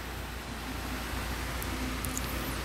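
An electric fan runs close behind someone playing MU Origin 2 on a Samsung A72 phone, giving a steady, even whooshing hiss with a low hum that never lets up. No one speaks.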